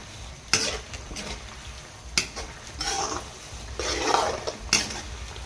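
Spicy wild boar stir-fried in a pan: a steady sizzle with scraping spatula strokes and sharp metallic clanks against the pan, in uneven bursts, close and fairly loud.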